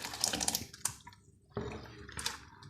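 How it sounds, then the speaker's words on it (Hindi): Rice poured into boiling water, watery splashes and pours in short bursts, a few sloshing pours and drips close by with brief quiet gaps between them. "अब इसी पानी में, उबलते हुए पानी में ये चावल डाल देंगे।"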